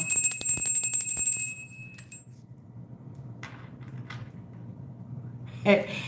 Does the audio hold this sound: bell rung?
yes